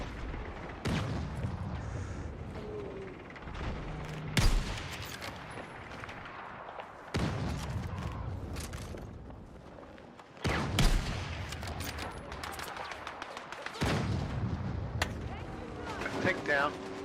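Intermittent gunfire and sniper shots in the Star Citizen video game, sharp loud cracks spaced several seconds apart over continuous battle noise, with voices talking throughout.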